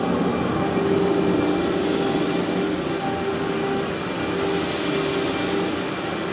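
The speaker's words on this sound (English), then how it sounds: "First, start vacuuming." A vacuum cleaner runs continuously over a heavily stained carpet, a steady broadband whoosh with a faint motor whine, loud and close, no pauses and no voices.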